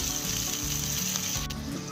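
Misal masala with crushed kasuri methi sizzles and fries in a pan, a steady close crackle with brief stirring scrapes, no voices.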